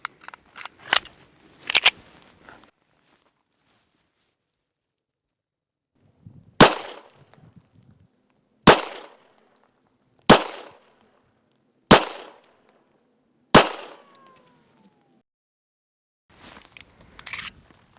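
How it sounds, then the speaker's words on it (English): Rock Island Armory 1911 pistol, converted to a 9mm barrel, fired at an outdoor range: loud sharp shots, two quick ones near the start, then five evenly spaced reports several seconds apart, each ringing out with a short echoing decay. "now that we changed barrels on the Rock Island Armory 1911, we're going to shoot"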